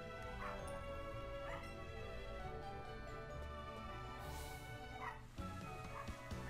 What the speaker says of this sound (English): Now there's a dog barking